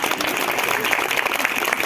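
Dense, lively clapping from a crowd at a Brahma Kumaris Mahashivratri celebration in New Delhi, a brief, busy burst of applause filling the hall.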